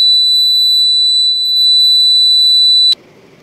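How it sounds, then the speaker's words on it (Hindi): A homemade fire alarm built around a neon bulb sounds when heated, giving a loud, piercing continuous high-pitched tone that holds steady for about three seconds and then cuts off abruptly, leaving faint background noise. "आज का हमारा छोटा सा फायर अलार्म सिस्टम। एक बार फिर से हम इसकी टेस्टिंग करके देख लेते हैं।"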